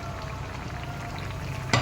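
Fish curry with cauliflower and tomato sizzles and fries in a pan as it is stirred. The frying hiss is soft and steady, and a brief utensil scrape or clatter comes near the end.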